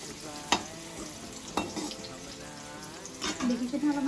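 Vegetables stir-fry in a hot pan for chowmein, a steady crackling sizzle broken by three sharp scrapes of a spatula, with a voice briefly audible near the end.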